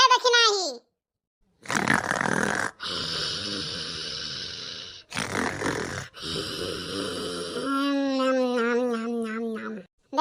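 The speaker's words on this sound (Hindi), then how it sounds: "ये देखत कैसन खर्राटा मारत है" Loud, drawn-out snoring from a sleeping person comes in long rasping breaths separated by short pauses, close to the listener, with a rougher, more voiced snort toward the end.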